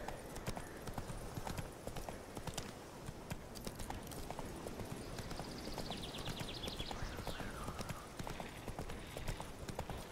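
In The Witcher 3, a horse gallops with steady, evenly spaced hoofbeats that continue throughout, under a faint tonal sweep in the background.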